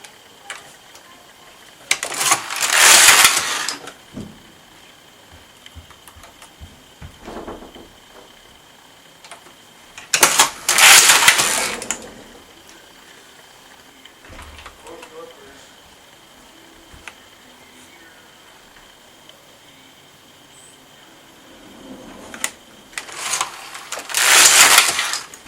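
A Passap knitting machine carriage knits rows of children's socks, giving three separate bursts of rattling, clicking mechanical noise, each lasting a couple of seconds, with quiet pauses between the passes.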